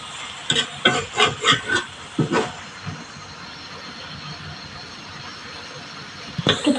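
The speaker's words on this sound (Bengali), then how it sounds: "আসলে আমরা ফ্রাই করে রাঁধতেছি।" Food frying and being stirred on a tawa, with a run of scraping, sizzling bursts in the first few seconds, then a steadier low sizzle and a final stir near the end.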